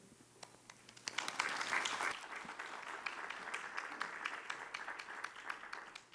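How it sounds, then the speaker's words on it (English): Audience applause at a town supervisor debate: a sparse scatter of claps builds at about one second into full, steady clapping from a crowd in a hall, holding at moderate loudness to the end. "Please hold all of your applause until the end of the forum"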